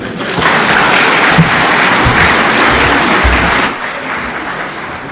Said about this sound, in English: Another round of applause for all the leaders who have spoken.